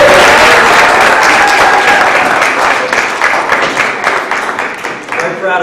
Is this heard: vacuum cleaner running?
no